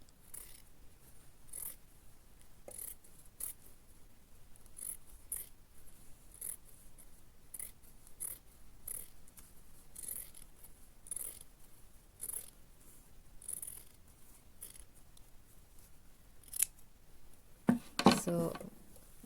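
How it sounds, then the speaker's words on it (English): Scissors snip extra fabric off a stitched fabric string in a string of faint, crisp cuts at irregular intervals, quiet and close, ending in a louder rustle of handling. "we can cut this extra fabric if you want"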